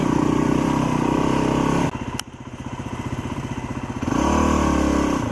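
A motorcycle rides through mud in Fairbanks, Alaska, its engine loud and close with a pulsing drone, dipping into a rougher, chugging labour midway before picking back up to a steady, stronger roar.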